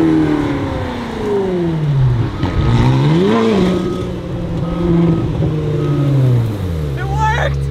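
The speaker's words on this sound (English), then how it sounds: "Ladies and gentlemen, that's how it's done. 458, standing burnout." Ferrari 458 performing a standing burnout, its engine revving loud and close with rising and falling pitch sweeps, while people talk excitedly over it.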